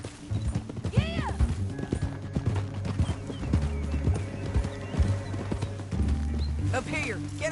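Horses in the Red Dead Redemption video game trot with steady clip-clopping hooves and give several loud neighs and whinnies, while characters talk over the game's sounds.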